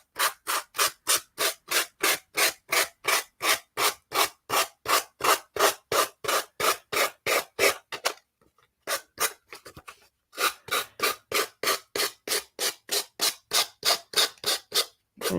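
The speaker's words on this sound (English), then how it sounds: "now I'm going to use my little sanding tool and just sand off this excess" A small power sander rasps in rapid, steady bursts at close range, sanding off excess on a junk journal craft piece, stopping briefly midway before resuming its rhythmic grinding.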